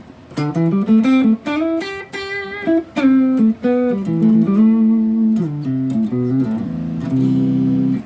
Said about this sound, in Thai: ปรับครั้งแรกก็คือใช้เสียงคลีนของมันจากเจ้า PM ตัวนี้